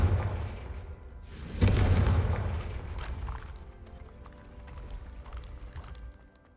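Confringo spell explosion in Hogwarts Legacy, a sudden loud blast that erupts after a second and a half and rumbles off, followed by quieter scattered game effects.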